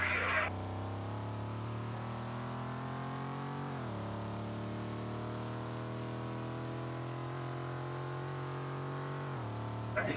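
Car lapping Circuit de Catalunya in a Roblox racing game, a steady droning engine tone holding pitch with a couple of brief dips as it shifts, continuous and fairly quiet.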